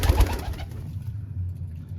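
Lande pigeons in a coop give soft, throaty coos up close, a short burst of calls that quickly fades to quiet.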